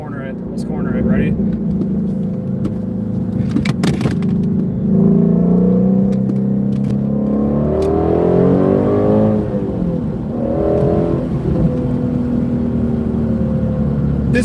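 A Shelby GT350 with a GT350R-style exhaust pulling through a corner, its engine droning loud and steady from inside the car, pitch rising and falling with throttle, while occupants talk over it.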